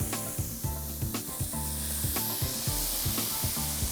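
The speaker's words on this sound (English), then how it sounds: "We're gonna add our okra." Okra drops into a pan of sizzling onions and cayenne, frying with a continuous bright hiss while a utensil stirs and scrapes the pan in a regular rhythm.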